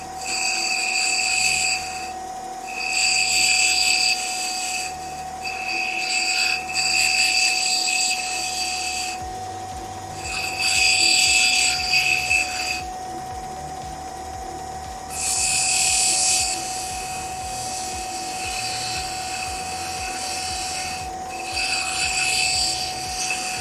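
A heavy-duty grinding wheel works opal for a ring, giving a steady close abrasive rasping with a constant high whine, broken into bursts of a few seconds as the stone is pressed on and lifted off.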